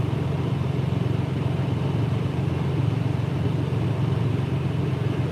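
A loud truck rumbles past outdoors, its heavy engine drone steady and close throughout.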